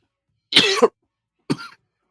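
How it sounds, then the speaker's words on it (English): A man coughs twice, close and loud: first a longer rough cough, then after a short silence a second, shorter one, with nothing else heard between them. "See, I coughed"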